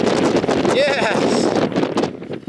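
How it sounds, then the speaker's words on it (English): Strong gusts on an exposed mountainside during an Alberta sheep hunt roar steadily and loudly into the microphone for the whole stretch, with a person talking through the buffeting. "Man, is it windy."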